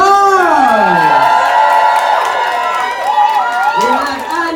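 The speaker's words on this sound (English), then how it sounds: "We're gonna give them a cheer as they leave the stage" A pageant audience cheers and whoops for competitors leaving the stage, with a loud, continuous wall of shouting and screaming voices sustained throughout.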